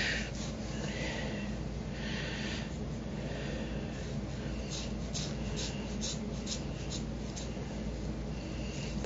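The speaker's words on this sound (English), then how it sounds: "I'm using these child safety scissors" Soft, steady scratchy rustling close by as child safety scissors cut a woman's hair, with a few brief crisp snips near the end and no talking.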